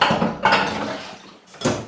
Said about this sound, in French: Et nous allons faire la vaisselle tout après.